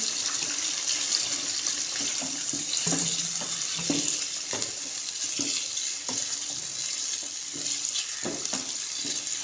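Blended paste of four tomatoes goes into meat frying in a pot for achar gosht, bringing a continuous hiss and sizzle broken by scraping stirs and soft wet splats.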